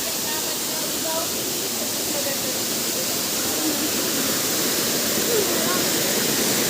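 Strong water rushes down a waterfall, a loud, steady, close roar of white noise that fills the whole clip without a break.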